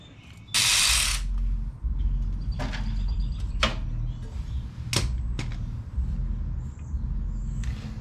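Ratchet clicking while tightening a nut on a bumper bracket during a Smittybilt M1 bumper install on an FJ Cruiser, heard as several short, sharp bursts spread over steady low background noise.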